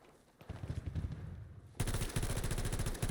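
Gunfire from a new weapon in Battlefield 2042, a video game: rapid automatic bursts, quieter and more distant at first, then a loud, sustained close-up stream of shots filling the second half, with no talking.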